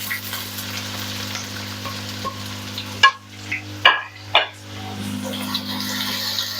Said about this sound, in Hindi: साथ ही हम इसमें प्याज ऐड कर देंगे।